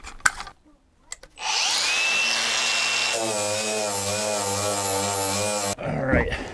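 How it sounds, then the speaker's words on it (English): A power grinder works a raised sheet-metal sunroof lip flat against a car roof skin, a steady loud whine that shifts to a higher, harsher pitch partway through before stopping abruptly. "I'm gonna grind this lip flat to the roof skin."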